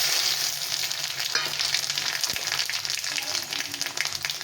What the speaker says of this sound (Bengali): এগুলো প্রথমে ফোড়ন দিয়ে দেবো।